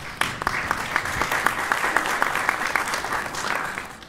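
A group applauds at a theme park, a moderately loud burst of many hands clapping with distinct individual claps popping out of a steady patter for about four seconds.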